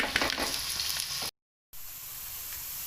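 Onions for a kofta gravy fry until brown in a pan, a soft, steady sizzle heard up close, broken by a short silent gap before the frying resumes more quietly.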